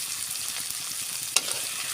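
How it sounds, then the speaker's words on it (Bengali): Bitter gourd stir-frying in a pan gives a steady, close hiss of sizzling oil, broken once by a sharp clink of the spatula. "আমাদের করলা সুন্দরভাবে ভাজা ভাজা হয়ে গেছে। একটু নাড়াচাড়া করে"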